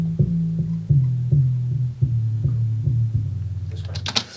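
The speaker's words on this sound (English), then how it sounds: "So this is sort of like a trap kind of sub that we put" A heavy, overdriven trap sub bass pulses in a steady rhythmic pattern, gritty and booming, with a brief crisp hit near the end.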